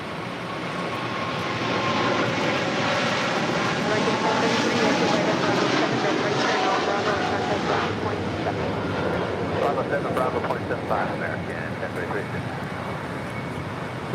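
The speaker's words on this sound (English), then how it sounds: "This is Nippon Cargo Airlines 101 taking off to Tokyo Narita on a 747-8 freighter." A Boeing 747-8 freighter of Nippon Cargo Airlines roars steadily and loudly on its takeoff run from LAX, the broad engine noise holding for the whole stretch.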